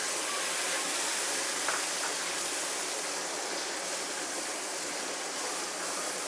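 Tomatoes dropped into a cooking pot for a homestyle Pakistani lowki aloo (bottle gourd and potato) curry give off a steady, even sizzle and hiss, moderately loud and continuous with no talking over it.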